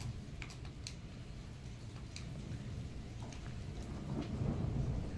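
Storm outdoors, low rolling thunder rumbling continuously under steady rain, with scattered sharp clicks like keyboard typing on top and a swell of rumble toward the end.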